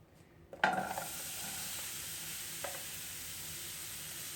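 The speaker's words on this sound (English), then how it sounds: "We're going to get all these veggies and put them on the pan." Chopped vegetables for an omelet hit a hot frying pan and break into a loud, steady sizzle, with a sharp clatter as they land and a brief scrape of stirring later, no voices.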